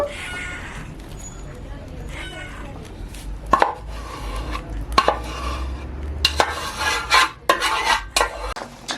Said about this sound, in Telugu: మనం ఇలా పోసుకున్న పాకాన్ని ఇలాగా అన్నిటికీ పాక వంటుకునేలాగా కలుపుకోవాలండి